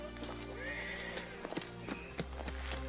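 A horse whinnies nearby in a medieval-style camp scene, a rising then falling neigh followed by a few hoof clops and light shuffling, fairly faint with no talking.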